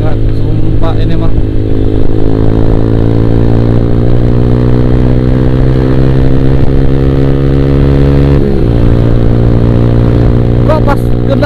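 Motorcycle engine drones loud and steady while riding, a continuous buzzing hum with one brief dip near the end like a gear change, close to the microphone.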